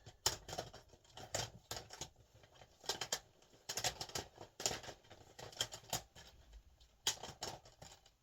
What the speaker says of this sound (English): I'm going to give it a good shuffle because there's a lot of them.